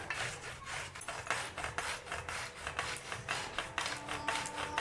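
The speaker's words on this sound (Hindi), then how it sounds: "अब मैं गुड़ को इसमें कद्दूकस कर रही हूँ।" Jaggery is grated for churma laddu in quick, rhythmic rasping strokes, each scrape a close, bright burst repeating steadily with no voices.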